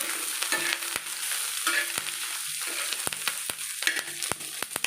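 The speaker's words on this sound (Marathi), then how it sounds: "आता यामध्ये मी अंडी टाकून घेते ही व्यवस्थित अशी फ्राय करून घ्यायची" Tol fish roe fries over low heat in a pan with onions, giving a continuous sizzle punctuated by frequent sharp spattering pops, close and moderately loud, with no voices.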